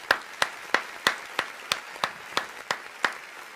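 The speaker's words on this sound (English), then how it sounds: "Clap it up for that guy." Slow, evenly spaced claps ring out about three times per second, around a dozen sharp hits in a row, sounding like a small audience or a few people clapping in unison rather than a dense crowd.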